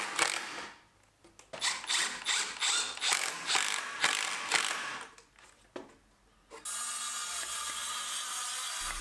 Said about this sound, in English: And then I can secure with 80mm screws.